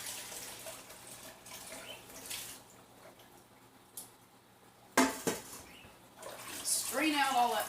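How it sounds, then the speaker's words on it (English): Homemade chicken broth poured from a pot into a colander in a kitchen, a rushing splash of liquid with clanks of pot against metal, building toward a sustained pour at the end, with a voice heard at times. "So I'm going to pour it in this colander."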